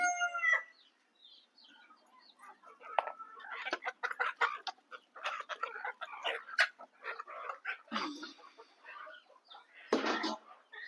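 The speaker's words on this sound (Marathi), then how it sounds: "तर आपली लहान पिल्लं पण आवडीने खात्यात आणि कोंबड्या पण आवडीने खात्यात." Free-range country hens cluck and squawk in a farmyard while pecking at peeled bananas, with short bursts of clucking and a couple of louder calls nearby.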